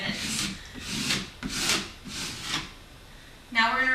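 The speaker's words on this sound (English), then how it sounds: "Now use your burnishing tool again and smooth it out from the outside to the edge" A burnishing tool rubs over vinyl lettering applied to a wall, making about five soft, rhythmic scraping strokes. A voice starts speaking near the end.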